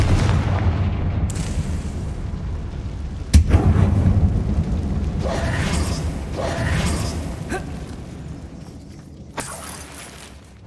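A Confringo spell blast in Hogwarts Legacy, a sharp explosive crack followed by rumbling, crackling debris over a steady dense game ambience, with smaller impacts afterward.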